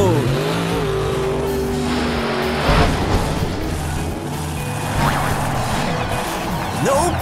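A monster truck revs loudly and launches off a ramp over three buses, with engine roar, tire noise and a thudding landing, while a voice talks in the background.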